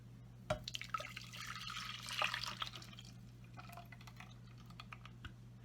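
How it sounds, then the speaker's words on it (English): A thick vegan, gluten-free plant-based mozzarella mix is poured into a saucepan, giving faint, irregular wet drips, plops and light clicks over a low steady hum, quiet and close. "now we're going to pour all of this nice mix inside a saucepan"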